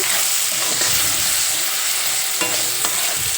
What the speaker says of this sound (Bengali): দেখো যতক্ষণ না টমেটোটা গলছে ততক্ষণ এইভাবে নাড়াতে থাকবো